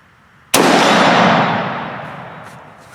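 Single Ruger Mini-14 rifle shot fired outdoors, a sudden sharp loud blast followed by a long fading echo tail lasting a couple of seconds, close, no talking.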